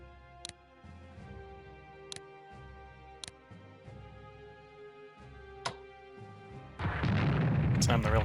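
Rail cannon artillery in the Strategic Command WWI strategy game fires in sharp separate booms, about five shots spaced roughly a second apart, then gives way to a loud, sustained rumbling blast near the end.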